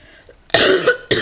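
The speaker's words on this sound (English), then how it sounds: "still coughing" Two sharp, loud coughs close up, the first longer and harsher, followed quickly by a second short one.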